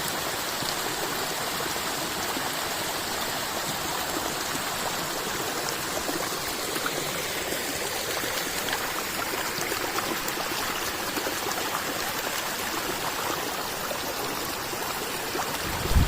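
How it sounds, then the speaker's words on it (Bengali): A small stream in a Darjeeling forest flows steadily, a constant broadband rushing and babbling of water, close and fairly loud throughout, with no voices. "আমরা চলে এসেছি একটা ছোট্ট জলের ধারার কাছে ছোট্ট হলেও এর আওয়াজটা অনেক দূর থেকে শোনা যাচ্ছে"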